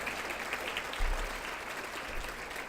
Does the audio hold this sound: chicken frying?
no